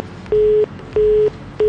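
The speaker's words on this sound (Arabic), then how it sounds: "فصل التليفون" A telephone busy tone after a disconnected call: three steady, evenly spaced beeps in a regular on-off rhythm, loud and clear with no voices.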